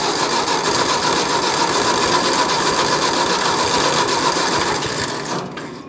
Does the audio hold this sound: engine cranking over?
yes